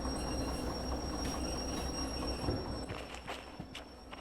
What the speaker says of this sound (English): That's driving trains.